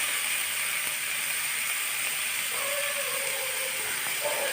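Tomato fries in hot cooking oil, a dense continuous sizzling hiss at even loudness, with a faint hum joining in the latter half.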